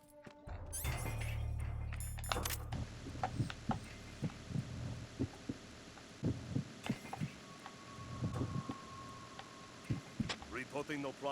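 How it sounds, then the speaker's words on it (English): Heartbeat thumps sound in Metal Gear Solid 2, a loud hum and crash at the start giving way to repeated soft low throbs, with game speech or voices mixed in. "His heartbeat's supposed to sound different as well"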